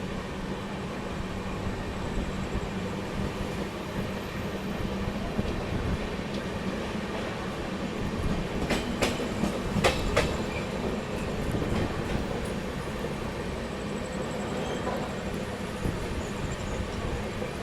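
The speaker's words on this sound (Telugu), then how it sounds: "ఈ సెక్షన్లో మాత్రం ట్రైన్స్ చాలా స్లో మూవ్ అవుతున్నాయండి" Mumbai LTT–Kakinada Port bi-weekly express, hauled by a WAG 9 electric locomotive, rolling slowly along the track. A steady low rumble of wheels and carriages continues throughout, with a brief cluster of clicks and metallic squeaks near the middle and no talking.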